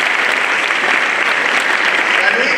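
Sustained applause from a university audience at a vice chancellor's address to first-year students, steady and dense for the whole stretch.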